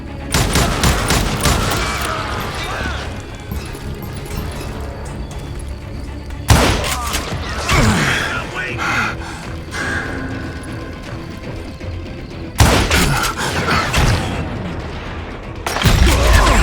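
Rapid gunfire and mechanical clanks in the Western shooter Call of Juarez: Gunslinger, loud repeated bursts of shots with ratcheting reload sounds, three sharp volleys separated by busy action noise.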